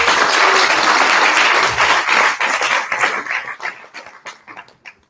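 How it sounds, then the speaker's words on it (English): An audience at a final presentations event claps for a presenting team. The applause is loud and dense at first, then breaks into scattered claps and fades out within about five seconds. "So big round of applause again for Team Chapter"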